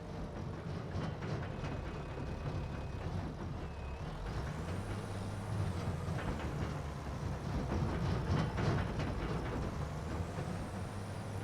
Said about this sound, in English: the trailer sounds on this particular mod are a little bit excessive. All the rattling